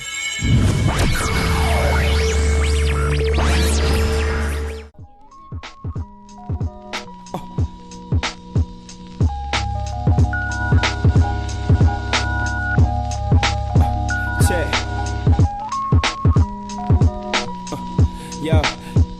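Hip-hop track plays loud, opening with a dense burst of sound before settling into a steady beat with punchy drum hits and sustained tonal notes.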